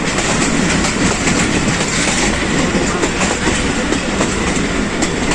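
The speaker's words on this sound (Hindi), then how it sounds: "Rawalpindi passenger train" A Pakistan Railways Rawalpindi passenger train runs along the line with a loud, continuous roar and rattle of wagons, with faint rhythmic wheel clatter throughout, heard from inside the train.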